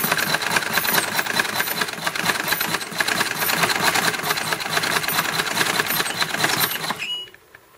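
A Singer VS2 treadle sewing machine stitches steadily for about seven seconds, a dense rhythmic mechanical chatter that holds even and loud before stopping abruptly near the end.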